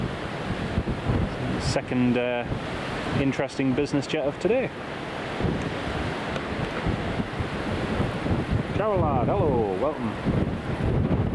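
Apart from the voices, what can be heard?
strong wind at the airport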